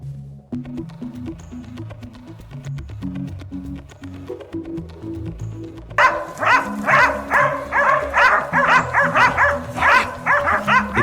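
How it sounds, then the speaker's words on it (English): A pack of hunting dogs barking in snowy wild boar country, rapid overlapping barks at first under a low tonal backdrop, then a louder dense chorus of rhythmic yelps and howls from about halfway on. "Suddenly, every dog let out a deep, urgent howl."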